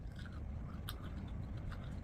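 Crunchy chicken wings, two flats and a drumstick, bitten and chewed close up, giving a steady run of crisp crunching with a sharper bite near the middle.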